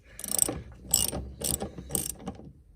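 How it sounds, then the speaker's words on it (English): A spanner works the 17mm nuts on a Mercedes 107 SL shock absorber strut mount, giving four close, quick ratcheting bursts in steady rhythm with no talk. "I usually put a spanner on the bottom one just to stop it turning, so I can get the top one off first."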